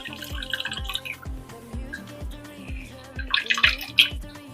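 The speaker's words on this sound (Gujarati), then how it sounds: "આ પાણી નિતારી લેવાનું છે" Water drains from boiled bamboo shoots in a steady rhythm of close drips and splashes, about two per second, with brighter spattering near the end.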